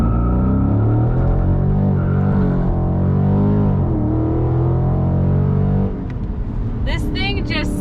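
A Dodge Charger Scat Pack with a 392 HEMI V8 launches hard from 0 to 60 with rear tires spinning, a loud, steady engine roar rising in pitch for about six seconds before it settles, with a voice near the end.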